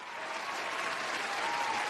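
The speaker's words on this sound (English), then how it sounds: "give him some applause" A short burst of steady audience applause during a sports debate show, a continuous even patter of clapping with a faint tone running underneath.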